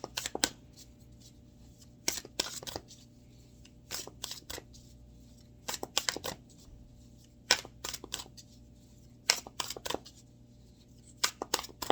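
Tarot cards are shuffled and laid down in repeated short bursts of crisp riffling and slapping, spaced every couple of seconds against a quiet room hum.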